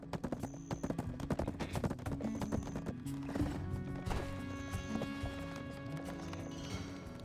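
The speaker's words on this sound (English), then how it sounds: "Serendia is full of excellent horses." Horse hooves clip-clop in a quick, steady rhythm with a whinny, from horses in the online game Black Desert's Serendia region, set against a busy, loud game soundtrack with no talking.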